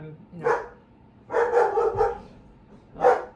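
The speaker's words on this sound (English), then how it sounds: "the dog is barking, which may mean that my home alone time has come to an end." A dog barks indoors at home in short bursts: one bark, then a quick cluster of three or four, then another single bark, moderately loud and nearby with no talking.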